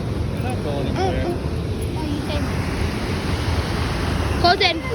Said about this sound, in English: How cool that waterfall is.